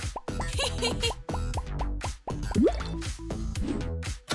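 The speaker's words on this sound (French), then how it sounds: "Il manque plus que des bulles." Bubbles popping and bursting in a cartoon scene, a run of wet drips and plops repeating in quick bursts over steady background music.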